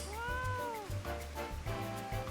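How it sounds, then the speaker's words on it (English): A cat meows several times in quick succession, fairly close, with a low steady hum underneath. "Did I hear meow?"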